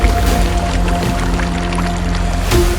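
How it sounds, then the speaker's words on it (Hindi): A stream of red, iron-rich water gushing from a mountainside produces a steady, dense rushing and splashing that stays loud and unbroken throughout. "पूरे पहाड़ में केवल इसी जगह से लाल मिट्टी से सनी लाल पानी की धारा फूटती है।"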